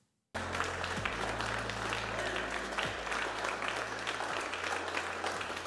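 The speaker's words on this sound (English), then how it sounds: "You heard it there from Mission Control and from the applause from our team." Mission control team breaks into steady applause after confirmation of payload deployment on a Rocket Lab Electron launch, sustained dense clapping throughout with a low hum of room equipment beneath.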